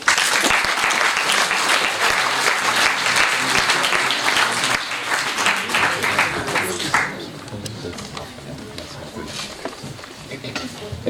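An audience applauds dancers at a reception for deserving athletes in Saint-Sever, a full burst of clapping that drops off after several seconds, leaving scattered claps and murmured talk.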